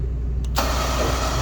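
A super service truck's engine cranks and catches, then settles into a steady, close idle with a broadband rumble.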